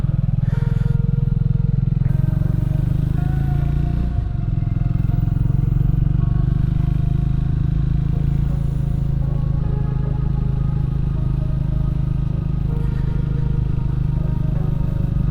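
A Triumph Scrambler 400X motorcycle rides along a hill road among Munnar tea estates, its engine a steady, close, loud rumble with wind noise, unbroken for the whole stretch and with no talk.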